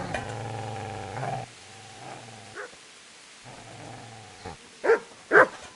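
A dog growls and snarls at a person in the video game Kingdom Come, low rumbling growls giving way to a few sharp, louder barks near the end.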